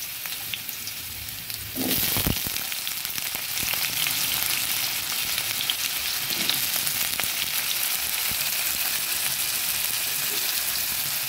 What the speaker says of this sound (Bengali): আমি দুটো আলুকে এরকম ছোট ছোট করে কেটে নিয়েছি। নিয়ে সুন্দর করে ধুয়ে এবার ভাজতে বসিয়ে দিলাম।